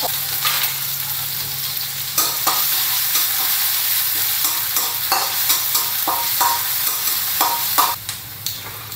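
Garlic and chili stir-frying in two tablespoons of vegetable oil, a loud close sizzle broken by repeated sharp scrapes and knocks of a spatula against the pan, no speech.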